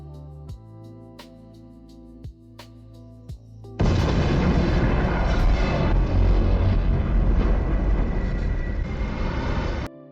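A bomb dropped on a town in a film bursts into a fiery mushroom cloud: after a few sparse tonal beeps, a sudden loud, deep roaring rumble starts and holds for about six seconds before cutting off.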